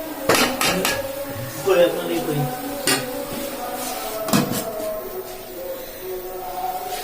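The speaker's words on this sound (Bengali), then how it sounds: "আমরা সুন্দর করে এটা নাড়াচাড়া করে দিলাম যাতে মশলাটা ভালো করে মিশে যায়" A vegetable curry being stirred in a cooking pot to blend in the spices, with loud metallic clanks and scrapes of a utensil against the pot at irregular moments amid a steady background hiss.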